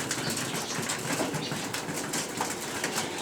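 Pigeons released from a loft take off together, a dense, steady rush of flapping wings that fills the whole stretch without pause and with no voices.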